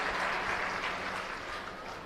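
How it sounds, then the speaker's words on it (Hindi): Audience applause at a government school event in Delhi, a steady dense wash of clapping that holds evenly for about two seconds at moderate volume. "तो जोरदार तालियों से मैडम का स्वागत"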